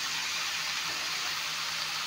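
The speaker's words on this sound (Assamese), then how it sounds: "এতিয়া অলপমান পানী দি দিম, গৰম পানী।" Hot water pours steadily into a frying pan while cooking a fish and bottle gourd dish, a continuous close hissing gush with no break.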